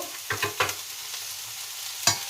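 Vegetables for veg fried rice (onions, thin-cut beans, carrot and capsicum) stir-fried in a pan, with a steady sizzle broken by a few sharp scraping stirs, close and without talk.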